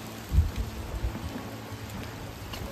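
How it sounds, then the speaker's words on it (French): Rain falling outdoors on the coast of Nova Scotia or New Brunswick, Canada, a steady soft patter with a few louder low thumps near the start, heard alone without talk. "Waouh, il pleut!"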